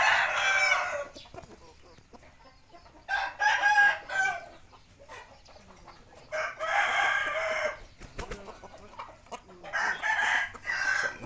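A rooster crows four times at a moderate distance, each long call separated by a few seconds of quiet, faint background noise.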